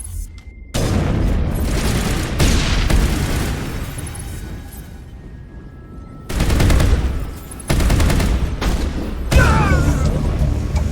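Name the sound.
gunfire in a firefight, from the video game Mass Effect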